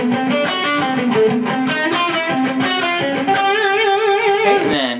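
A distorted electric guitar plays a slow ascending run, sustained notes picked one after another in a steady rhythm, climbing in pitch with a final bend at the end, loud and alone.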